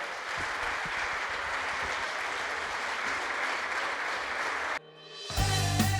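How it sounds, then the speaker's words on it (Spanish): Audience applause at a book presentation in Spanish, a steady roar of clapping from a seated crowd that runs for nearly five seconds and then cuts off abruptly into other sound. "Darle un fuerte aplauso"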